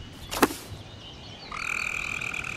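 A frog croaks in the game Miasmata, a steady rasping trill that starts partway through and keeps going, after a brief sharp swish at the start, with no talk.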